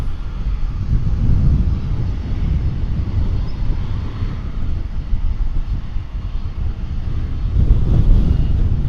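At DFW Airport, an aircraft gives off a continuous low rumble heard from a distance that holds steady and swells slightly toward the end, with some wind noise mixed in.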